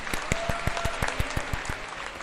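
Applause sound effect: a short burst of evenly spaced, crisp claps in a quick rhythm, fairly close and moderately loud, with no voices over it.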